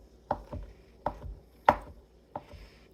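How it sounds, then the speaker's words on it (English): Olives chopped with a knife on a cutting board: four crisp, evenly spaced knocks over a few seconds, close and clear with no talking. "Let's just get some olives here. Chop them up."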